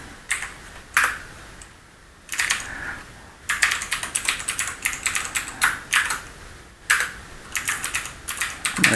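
Bursts of rapid clicking keystrokes on a computer keyboard, close and crisp, come in uneven runs separated by short pauses, with no talk.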